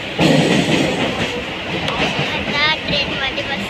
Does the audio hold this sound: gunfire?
no